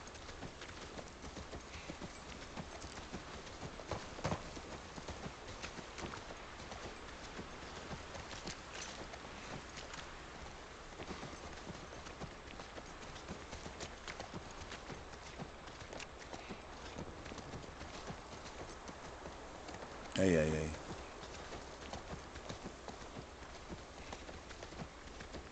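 Steady clip-clop of horse hooves in The Last of Us Part I, a continuous rhythmic trot under quiet outdoor ambience with a brief louder thump near the end.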